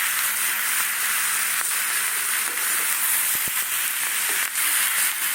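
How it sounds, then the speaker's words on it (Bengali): Potatoes sautéing with ground spice paste in a pan, giving a steady close sizzle and hiss with a few soft clicks of stirring, running alone without talk throughout. "এই যে কষানো হচ্ছে"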